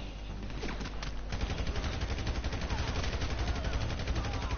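Rapid bursts of gunfire in the video game GTA, a dense, continuous rattle of shots that swells and keeps going without a break, loud and harsh.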